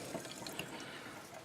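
Cold water runs from a bathroom sink tap during de-winterization, a soft steady splashing stream that is fairly faint and steady, with no talking.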